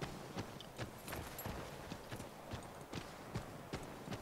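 Horse hooves clip-clop at a steady walking rhythm in the Assassin's Creed 3 video game, roughly ten crisp, evenly spaced strikes standing out clearly over a soft ambient background.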